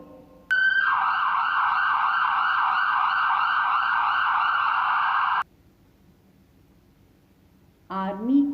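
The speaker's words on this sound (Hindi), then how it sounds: "एम्बुलेंस, एम्बुलेंस को हिंदी में कहते हैं एम्बुलेंस" Ambulance siren wailing loudly and steadily for about five seconds with a regular rising-falling warble, then cutting off abruptly; after a quiet gap a different tonal sound starts near the end.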